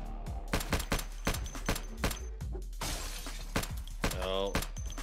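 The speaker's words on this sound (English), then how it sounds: "smashing through windows somewhere" Zombies in Project Zomboid smash through windows: a rapid series of sharp, loud impacts and crashes, then a burst of shattering glass with tinkling fragments near the end, close and distinct.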